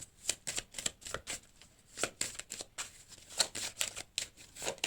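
Tarot-style cards are shuffled for a reading, producing quick repeated riffling flicks and soft slaps in an irregular rhythm, close and fairly quiet, with no voices.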